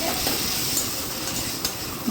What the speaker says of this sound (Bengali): ওর ওপর দিয়ে একটু নুন ছড়িয়ে দিয়ে ভালো করে এটাকে ভাজতে থাকলাম।